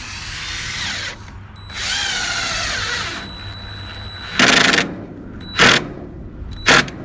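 A power drill drives screws into wall framing for a tiny home, with several long whirring runs that rise in pitch, then three short loud bursts, close and with no talk over it.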